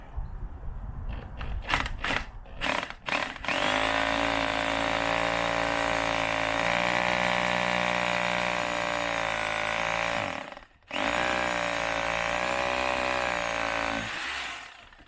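A cordless drill whirs loudly and steadily while drilling a recess for a sewer cleanout, starting with a few short bursts, then running continuously with one brief stop before spinning up again.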